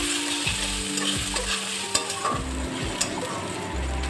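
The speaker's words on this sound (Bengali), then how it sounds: "এইবারে আমি 2টো বড় দেখে পেঁয়াজ কুচিয়ে রেখেছিলাম, এবারে আমি সেটা দিয়ে এবারে কষাবো।" Two large chopped onions frying in a pan for a boal fish curry, a loud continuous sizzle broken by repeated rhythmic scrapes and clacks of the spoon, close up with no talking.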